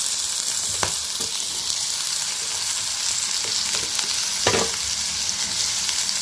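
Carrots and potatoes sautéing with onions in a pan, a steady close sizzle with a few sharp scrapes of stirring, no voices.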